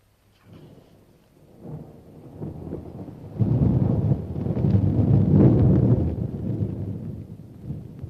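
Thunderstorm and heavy rain in a Western film scene: a low rumble of thunder rolls in and swells loud near the middle, with steady rain wash beneath, then slowly eases.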